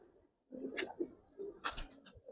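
Giribaz pigeons on a rooftop give soft, low coos in a few short bursts, close and quiet, with a faint rustle between calls.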